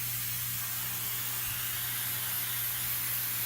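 Aerosol spray can applied to the fabric headliner of a 1994–2002 Dodge Ram truck, a steady, close, continuous hiss with no pauses and a faint low hum beneath.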